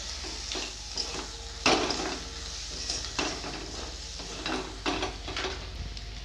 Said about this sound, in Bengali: হলুদ গুঁড়ো লঙ্কা গুঁড়ো জিরা গুঁড়ো ভালো করে কষাবো